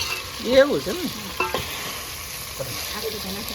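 Steady sizzling of bangda (mackerel) frying in a pan, with scraping stirs and a couple of clinks; a voice murmurs briefly near the start.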